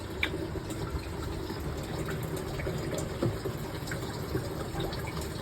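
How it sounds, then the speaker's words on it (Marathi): Water running steadily into a home fish tank, a continuous gushing fill with small splashy bursts, moderately close and uninterrupted throughout. "पाणी पण भरायला लावलं आहे."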